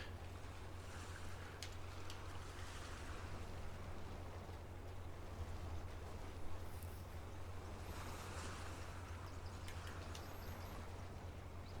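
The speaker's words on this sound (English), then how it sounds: "You're just hearing the background noises, the birds and the water" Quiet ambient water sounds on an island in Farming Simulator 25, with ocean waves and surf making a steady, soft, distant wash and a low constant rumble, with no talk.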